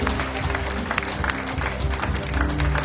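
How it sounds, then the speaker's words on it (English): A congregation claps along at a Sunday evening prayer retreat in Margao, Goa, the rhythmic hand claps sitting over a low musical drone and hum in a reverberant hall. "clap your hands for Jesus"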